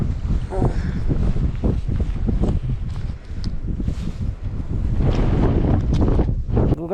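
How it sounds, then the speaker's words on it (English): Strong wind near Pangong Lake in Ladakh buffets the microphone in heavy, uneven gusts, a low roaring rumble that continues throughout with a voice talking faintly beneath it. "just listen to the wind sound."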